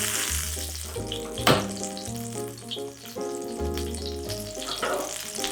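Butter melting and sizzling in an oiled pan for potato cakes, a quiet steady crackling hiss with one sharp tap, heard beneath louder background music.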